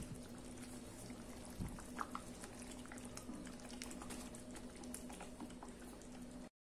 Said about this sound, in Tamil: இப்போ பாருங்க 2 நிமிஷம் கொதிச்சிருச்சு.